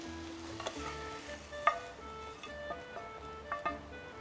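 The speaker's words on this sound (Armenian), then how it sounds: "Ետ տնենք տապակը կրակին։ Ավելացնենք մեր խնձորը։" Apple pieces fry in a pan on the stove with a soft, steady sizzle and occasional light stirring clicks and scrapes, quiet and close, with no talking.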